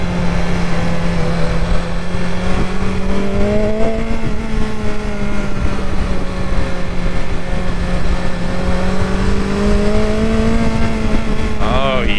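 A BMW S1000XR motorcycle engine drones steadily while riding, its pitch rising and falling as it revs, loud and close with constant wind rush throughout.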